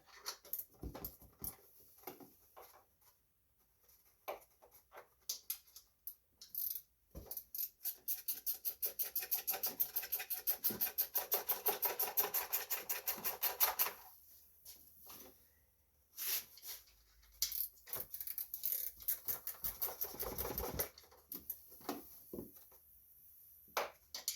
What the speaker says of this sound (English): Now we need a ratchet wrench to tighten the ones by the gas tank down.